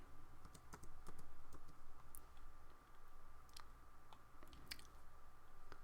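Steady clicking of computer keyboard keys as AutoCAD drawing commands for a slip-on flange are typed, irregular bursts of taps over a constant low hum, close and fairly quiet, no speech.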